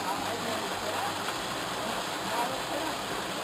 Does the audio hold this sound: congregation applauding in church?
no